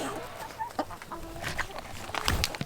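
Chickens clucking inside a coop, a scatter of short close clucks and squawks at irregular intervals over faint background noise, with a voice briefly audible.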